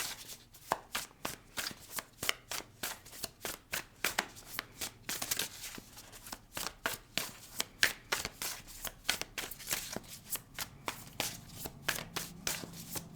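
Tarot cards are shuffled in a quick, steady series of crisp riffling taps, close and fairly quiet, continuing for about thirteen seconds with no talk over them.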